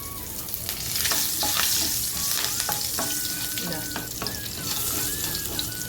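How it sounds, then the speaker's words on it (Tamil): A single dried chili and a couple of curry leaves crackle and sizzle in hot oil for a spicy garlic chutney tempering, with steady frying hiss, occasional sharp pops and stirring clinks close by, no talking. "ஒரே ஒரு மிளகா வாசனைக்கு இது நல்லா பொறிஞ்சு வரட்டும் ரெண்டு கருவேப்பிலை"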